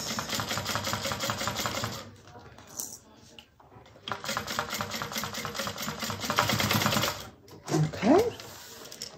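A sewing machine top stitching a fabric bag in long steady runs of rapid mechanical clatter, close and fairly loud, with a brief pause in the middle and a short squeak near the end.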